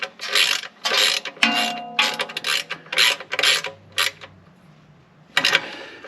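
A vehicle's oil drain plug is tightened back in on a 2006 Lexus LX470 / Land Cruiser 100 with a ratchet, giving a string of close, quick clicking bursts, then a pause before one last short burst.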